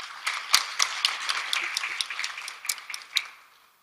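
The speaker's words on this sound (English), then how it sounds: "we can celebrate by a clap of hands" A scattered round of hands clapping from delegates at an experts' meeting for a ministerial conference, individual claps distinct and fairly close, swelling briefly then tapering off.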